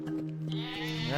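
A sheep bleats in a short, wavering cry, fairly close and clear, with a low steady hum underneath.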